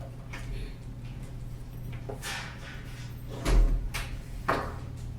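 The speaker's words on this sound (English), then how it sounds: "Did he just lock that door?" A door on a stage set is shut and locked, giving a few scattered knocks and clicks over low room hum, then a heavier thump and latch sound midway, moderately close.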